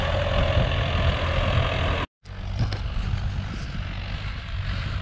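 A John Deere 5080R tractor spreading liquid fertilizer in a wet field drones with a steady, loud engine rumble, cut by a brief silent gap before the engine noise resumes with faint talk.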